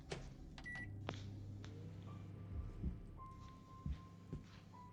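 A microwave oven runs in the video game Метель, a faint steady hum with a tonal whine, occasional soft thuds and clicks, no voices.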